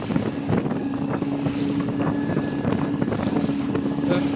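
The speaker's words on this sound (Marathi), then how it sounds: "वारा वारा पण खूप आहे." A boat at sea on a foggy run along the coast from Ratnagiri to Raigad, with strong wind roaring steadily across the microphone over a constant low engine drone, loud and continuous throughout.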